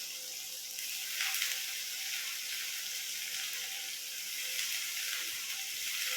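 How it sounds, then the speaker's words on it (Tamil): Potatoes sauté in a pan for pea kurma, giving a soft, even sizzle that hisses continuously with small crackling swells throughout. "வசங்கிட்டு இருக்கு, இன்னும் கொஞ்சம் வசங்கட்டும்."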